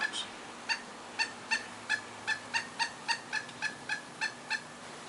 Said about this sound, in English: That's the pileated woodpecker. This guy's a chatterbox.